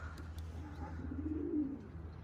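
Pigeons gather at a loft while a stray bird lingers among them; soft, continuous cooing rises and swells near the middle, fairly quiet against a low background hum.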